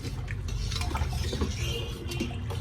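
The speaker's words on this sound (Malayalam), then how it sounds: "നന്നായിട്ട് ഇളക്കി വെക്കാം." Chicken biryani is stirred in a pot in Thiruvananthapuram style, with a spoon scraping and clinking against the metal in a continuous close, moderate rhythm over a low background hum.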